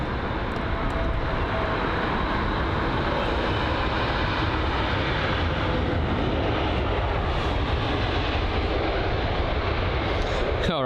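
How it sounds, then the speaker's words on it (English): A British Airways A321neo touches down on runway 27 right at London Heathrow, a broad, steady roar of jet engines and rushing air, loud and continuous throughout, heard from the airport perimeter. "that's the British Airways A321neo on its touchdown at runway 27 right"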